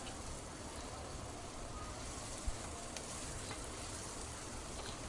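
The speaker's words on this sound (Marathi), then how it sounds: "दोन मध्यम आकाराचे कांदे मी छान बारीक कापून घेतलेले होते कांदा व्यवस्थित आपण परतून घेऊया" Two finely chopped medium onions sautéing in a pan for kharda chicken, a faint, even hiss of frying with a single soft knock midway, no voices.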